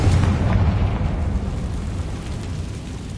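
A Confringo fire spell bursts in Hogwarts Legacy with a loud, rumbling explosion whose heavy low boom fades slowly over about three seconds, heard alone.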